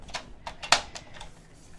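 Scissors snip through paper while trimming pages for a handmade DIY notebook, a few crisp, close cuts spaced across a quiet moment with one sharper snip in the middle.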